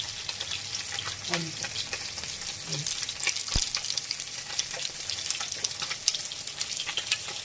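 Panch phoron whole spices crackling and sizzling in hot oil alongside a dried red chilli, a steady broadband frying hiss with scattered pops and a brief stir throughout.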